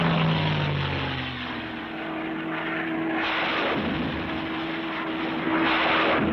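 A P-51 Mustang fighter bomber's propeller engine drones steadily and loudly, its pitch shifting slightly as the plane passes, with no voices.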